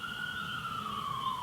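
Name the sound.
emergency vehicle siren, probably fire engine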